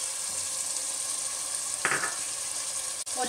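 Yogurt goes into a pan of tomatoes softened by five minutes of cooking. A steady sizzle runs throughout, with a brief, louder splattering burst partway through and a stirring sound near the end.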